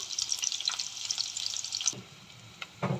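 Onions, green chillies, curry leaves and turmeric fry in hot oil for a Telangana-style goat trotters soup, giving a close, steady crackling sizzle with brief stirring scrapes that drop away near the end before a short clatter.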